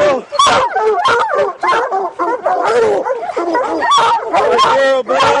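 Hunting hounds from a bear-hunting kennel bark and yip in a loud, close, overlapping chorus, with rapid excited yelps and whimpers packed tightly together throughout.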